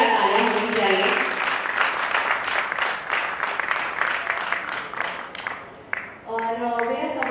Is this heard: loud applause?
yes